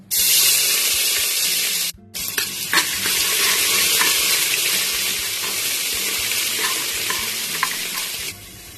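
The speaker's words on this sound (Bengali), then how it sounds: "তেল গরম হয়ে গেছে আদা রসুন থেতো করে রেখেছিলাম দিয়ে দিচ্ছি" Crushed ginger and garlic hit hot oil in a pressure cooker with a loud, sharp sizzle, briefly cut off, then a steady crackling fry with stirring that continues until it drops away at the end.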